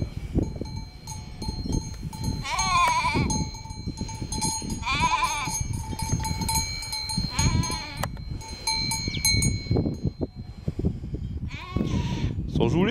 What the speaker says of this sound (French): Il y a le petit qui arrête pas de bêler là-bas.